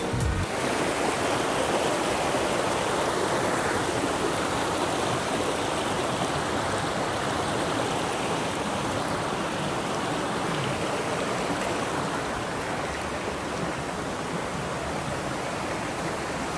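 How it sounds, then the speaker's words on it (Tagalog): Rushing stream water in a clear, cold outdoor setting, a loud, constant broadband rush and splash that continues unbroken and close by. "Ragasan ng tubig"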